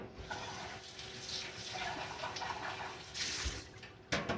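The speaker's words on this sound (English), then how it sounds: "Sorry, had to rinse my can." A can is rinsed under a running kitchen tap. Water splashes and hisses steadily for a few seconds, close and fairly quiet, and ends with a brief clatter.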